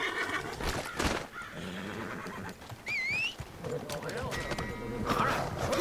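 A horse neighs in a video game: a sharp whinny near the middle over busy game sounds and hoof clatter.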